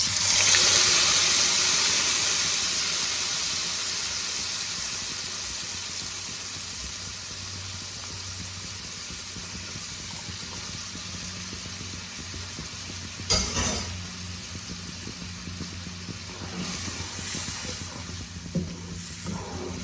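Prepared masala paste hitting a hot pan with cumin seeds for an egg masala gravy, a strong steady sizzle that fades gradually, followed by faint stirring clatters.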